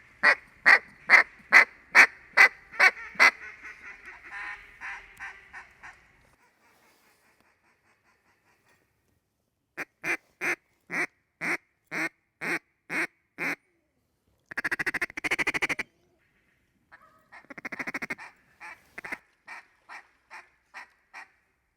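Mallards quack in Arkansas flooded timber, loud rhythmic series of sharp, evenly spaced quacks close by, broken by pauses, with a few buzzy drawn-out calls between the runs.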